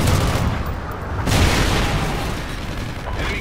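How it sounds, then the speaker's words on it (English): A Trinity rocket strike from Call of Duty: Ghosts sets off a sustained, rumbling roar of explosions, with a heavier booming surge partway through and continuous blast noise filling the whole stretch. "Friendly Trinity rocket inbound."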